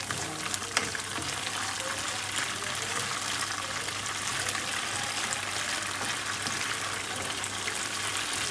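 Coconut latik for biko fries in a pan with a steady, dense sizzle that holds at an even level throughout, close and uninterrupted, with occasional faint ticks of a utensil.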